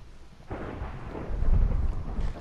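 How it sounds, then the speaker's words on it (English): Thunder rumbles through a Minecraft game scene as a low, swelling roll that builds to a deep peak midway and then lingers, with no talk over it. "And it's thundering."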